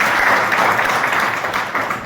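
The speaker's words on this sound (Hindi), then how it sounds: "ताली बजा लीजिए आप।" A seated audience at a motivational business seminar claps together, a steady dense patter of many hands sustained at moderate loudness throughout.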